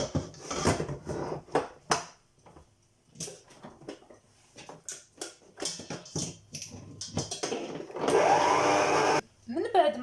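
An electric mixer beats basbousa batter in short whirring bursts, ending in one longer steady run, between moments of quiet and faint kitchen clatter.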